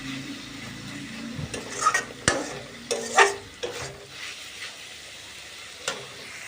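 Cabbage frying in a pan as it's stirred and dries out, with scraping stirs and soft sizzling in irregular bursts, close up, and no voices.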